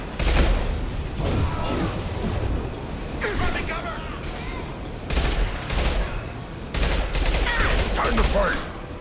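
Gunfire and an impact shot in Mass Effect 2, loud bursts of rapid shots and booming impacts in several separate volleys, with combat chatter mixed in.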